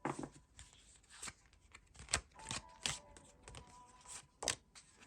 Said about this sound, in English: Definitely an interesting shuffle using 6 cards.